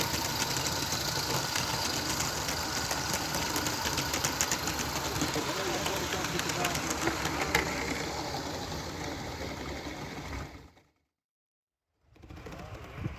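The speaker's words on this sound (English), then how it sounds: "this is Aster DB62 tank engine, and this one's running a treat." An Aster DB62 model tank engine runs on gauge 1 track with a steady, busy mechanical clatter and fast rhythmic ticking under talk, then cuts out briefly before picking up again.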